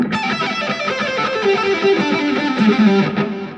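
A fast, distorted electric guitar run rips through a rapid string of notes, loud and continuous, with no talking over it.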